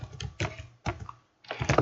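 Computer keyboard keys, Tab and Enter, pressed while drawing lines in AutoCAD 2019: a few close, crisp clusters of clicking keystrokes separated by short pauses.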